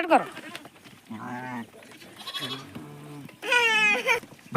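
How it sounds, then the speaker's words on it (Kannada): Several sheep, a pregnant ewe among them, bleat in loud wavering calls close by, with a strong cry near the end and speech-like noises in between. "ಗಬ್ಬದ ಕುರಿ ಇದೆ"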